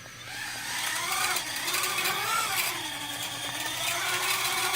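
An electric motor with bad bearings runs steadily, giving a faint, continuous grinding whir with wavering tonal rattles and no talk over it.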